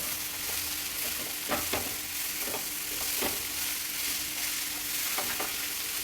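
Kabuli chickpeas fry in a spicy tempering in a pan, giving a steady sizzle broken by repeated scraping stirs of a spoon, close and alone without talk.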